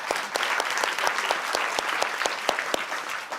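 Steady applause from a sizable conference audience at a security forum, dense clapping throughout with sharp individual claps standing out, no voices above it.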